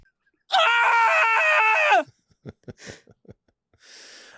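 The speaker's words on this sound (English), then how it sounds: "Give me one more scream" A person lets out one long, loud scream on request, close and sustained for about a second and a half, followed by scattered breaths, snorts and small vocal noises.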